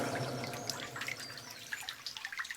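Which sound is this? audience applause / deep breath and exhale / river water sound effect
river water sound effect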